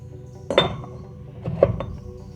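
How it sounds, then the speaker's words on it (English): Vintage metal ball peen hammer heads knock together as they are handled, giving two separate bright metallic clinks about a second apart over a quiet background. "Okay, we got some ball peen hammers here."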